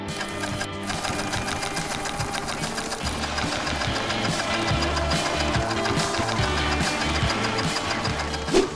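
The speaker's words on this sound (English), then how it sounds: "You need to use a sewing machine for that." A sewing machine stitches a plush toy in a steady, loud mechanical whir with rapid rhythmic needle clatter that runs continuously throughout.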